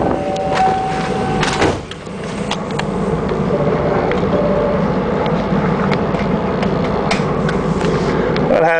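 A 1995 Ford school bus with a 5.8 liter engine idles steadily and fairly loudly, with a brief thunk and shift in tone early on as the air conditioning compressor engages, then the engine drones on evenly.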